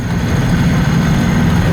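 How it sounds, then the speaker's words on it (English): A 1964 Citroën 2CV Charleston clone's small engine running steadily while driving, a loud, constant low drone close by with no talk. "The engine just loves to rev."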